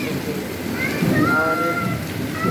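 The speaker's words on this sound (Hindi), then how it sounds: "इतना तेज तेज से बारिश हो रहा है" Heavy rain pours steadily during a thunderstorm, a dense continuous wash close by, with someone talking briefly over it.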